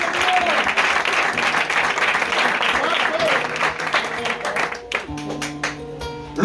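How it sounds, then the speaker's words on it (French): A church congregation applauds together during a French-language service, with sustained, dense clapping that thins toward the end as a voice speaks over it with some amplified tones. "Donne un applaudissement au Seigneur."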